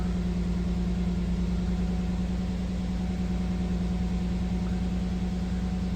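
Nissan Xterra engine idling with a misfire while one cylinder is disabled, a steady close low rumble and hum with a faint uneven pulse, holding constant throughout with no talking.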